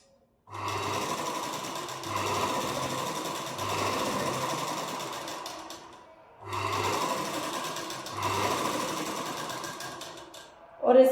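An electric sewing machine stitches a princess-cut deep-neck blouse in two long close bursts of rapid mechanical whirring, separated by a brief pause, with a sharp click at the end.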